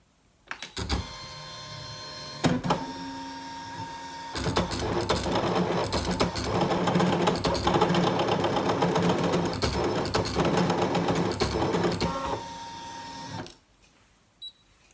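A cutting machine's motor whirs and buzzes continuously as it draws a pattern with a marker, its pitch shifting as it moves back and forth, with clicks at the start and end before stopping.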